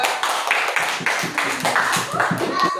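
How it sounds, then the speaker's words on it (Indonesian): A classroom of students claps for a winning group, a patchy burst of many hands close by, with a teacher's voice partly over it. "beri tepuk tangan kepada kelompok 2."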